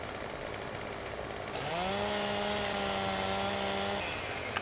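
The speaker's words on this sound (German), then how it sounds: "Ich musste die Motorsäge ein bisschen höher halten" A chainsaw cuts into a tree in Farming Simulator 15, its engine note rising from idle into a loud, steady whine that holds for a couple of seconds before dropping back, with no talk over it.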